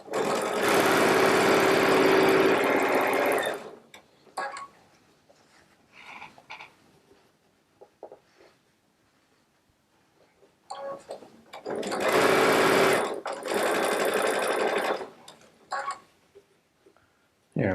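A Baby Lock Solaris sewing machine piecing a quilt seam with a quarter-inch piecing foot runs in two loud, steady bursts of rapid stitching, separated by a pause filled with small handling clicks and fabric rustles.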